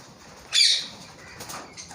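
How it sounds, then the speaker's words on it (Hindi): Parrots kept in cages at a small rural mini zoo, giving one short, sharp burst of squawking or wing flutter that stands out briefly before a quiet background with faint rustles. "ये बैठे हैं कुछ तोते, ये पैरट्स हैं"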